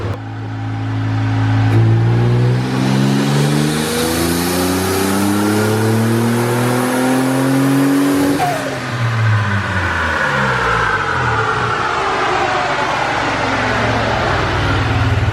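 Turbocharged Toyota 4Runner engine with about 300,000 miles and a manual boost controller, revving hard on a dyno pull: a loud, steadily rising engine tone climbs for several seconds, drops sharply, then winds down and settles again, close and alone.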